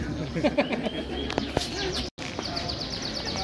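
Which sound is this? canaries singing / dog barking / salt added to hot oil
canaries singing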